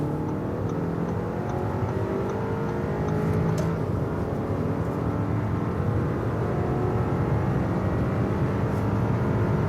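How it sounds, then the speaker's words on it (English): An Audi Q5 Sportback accelerates on a German motorway while overtaking a truck, with a steady interior engine drone, tyre roar and wind rush that build slightly and hold constant throughout. "we can also accelerate on the motorway and also overtake this truck"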